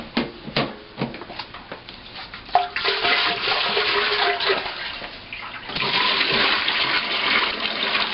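Water splashes and gushes while rinsing a Cornelius keg for home brewing, with a few sharp knocks at first, then a continuous close rush of running water that grows louder toward the end.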